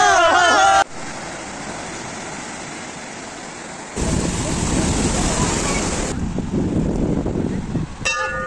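Surf rolling in at Digha beach, a broad steady wash of waves mixed with wind buffeting the microphone, swelling louder partway through, with people talking nearby.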